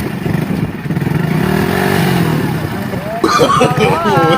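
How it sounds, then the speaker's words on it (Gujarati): A motorcycle engine revs loudly and close, with a surging, rising pitch and a sharp rise in intensity near the end, while a voice talks over it. "મોટરસાઇકલ ચાલુ કરીને પાણી ઉડાડવા દે"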